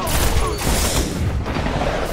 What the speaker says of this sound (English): I killed myself with my own grenade